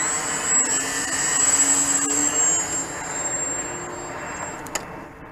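An RC model plane's electric motor whines high and steady overhead as it throttles up, a continuous moderately loud tone that shifts slightly in pitch while passing, with wind noise beneath.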